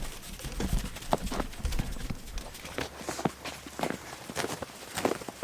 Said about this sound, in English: They'll be glad to get some fresh hay.